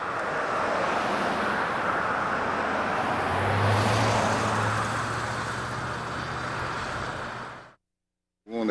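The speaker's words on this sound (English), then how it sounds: "The traffic in Veracruz is" Street traffic in Veracruz makes a steady, broad roar of passing vehicles, with a low engine drone swelling in the middle. It lasts about eight seconds, then cuts to silence.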